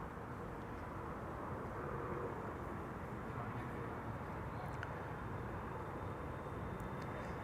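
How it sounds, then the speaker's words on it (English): An Emirates SkyCargo cargo plane arriving at Schiphol makes a steady, faint, distant low roar that holds evenly throughout. "That's Emirates Sky Cargo, arriving from Dubai."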